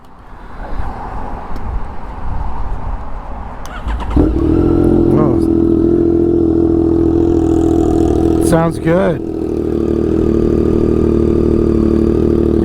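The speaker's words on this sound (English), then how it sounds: "Let's fire it up here. This one's got an aftermarket race fit exhaust on here." A Yamaha XSR900 motorcycle fitted with an aftermarket race exhaust cranks over and fires up, then settles into a loud, steady idle with a couple of throttle blips, while someone briefly speaks over it.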